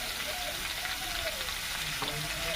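Shukto vegetables sizzling in a pan while being stirred, a soft continuous fry with a couple of light scraping strokes and a small clink, faint and close, with no talk.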